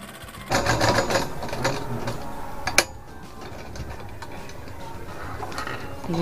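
Rapid ticking stitches from a sewing machine sewing a straight seam on ladies' pants, a loud burst early on followed by a sharp click and a quieter steady mechanical run.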